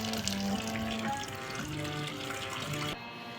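Water running steadily from a tap into a container to soak sago, a continuous close splashing flow that cuts off near the end.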